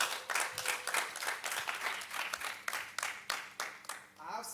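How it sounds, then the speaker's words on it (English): A seminar audience gives itself a round of applause, clapping in rapid uneven bursts at moderate distance, with voices heard faintly underneath. "A round of applause for yourselves"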